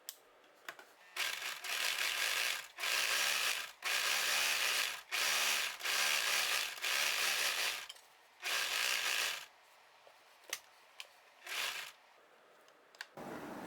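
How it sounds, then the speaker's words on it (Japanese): Overlock serger stitching the side seams of a high-neck vest, running in several fast mechanical bursts of one to two seconds each, separated by short pauses and small handling clicks. "脇にロックミシンをかけます。"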